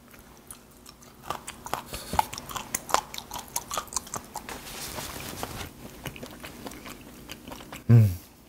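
Someone chews fermented skate tail from Heuksando, dipped in salt and chili powder, with moist, crunchy bites of the cartilage repeating close up in a quiet room over several seconds, then a louder thump near the end.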